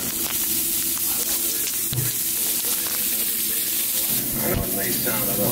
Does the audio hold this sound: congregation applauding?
no